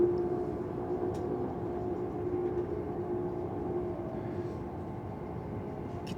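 A white CRH bullet train on a high-speed line in China, heard as a steady low rumble and hum that holds evenly throughout, with faint rail noise and no talk.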